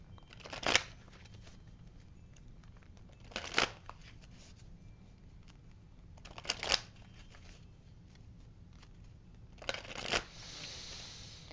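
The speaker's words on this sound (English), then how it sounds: "I'm going to pull you a Journey of Love card since I haven't done that in a while" Journey of Love oracle cards being shuffled, four short crisp riffles spaced a few seconds apart, close and fairly quiet against a soft background hiss.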